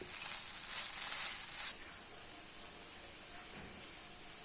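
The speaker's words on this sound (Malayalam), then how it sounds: "ഇനി ഇത് രണ്ടും കൂടെ നന്നായിട്ട് വഴറ്റണം." Two ingredients sauté in a pan while cooking a healthy ragi oats pizza, giving a steady, faint hissing sizzle that eases off a little partway through, with no talk.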